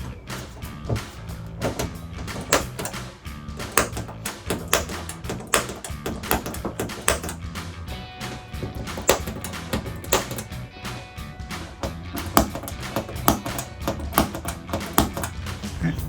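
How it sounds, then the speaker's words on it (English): A center punch is tapped into marked hole centers on the trunk lid of a 2010-2014 Ford Mustang during a rear spoiler install, giving dense, repeated sharp metallic taps and knocks, close and fairly loud throughout. "I'm gonna go ahead and do a quick center punch."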